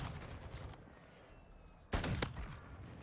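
Burst of sniper rifle gunfire in the shooter video game Call of Duty: Modern Warfare, a loud abrupt crack near the two-second mark following a quieter stretch of faint game sounds.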